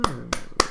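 Hands clap back a short rhythm in a classroom music game, three sharp claps about a third of a second apart, close and clear with no talk.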